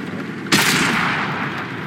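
A tank cannon fires once in World of Tanks, a sharp, loud blast followed by a long, dense rumbling decay that fills the rest of the moment, with no voices.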